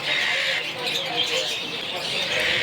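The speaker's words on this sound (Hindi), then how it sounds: "आहिनि फिंचूं मतिलबु हिकिड़ी नस्ल आहे उन्हनि में" Finches at a bird market in Saddar, Karachi, chirp continuously at a moderate distance, a busy high twittering chorus that also carries a faint murmur of voices.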